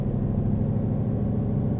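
A Ford Mustang engine held at a steady 1500 RPM gives a low, even, close-up hum with no changes in pitch.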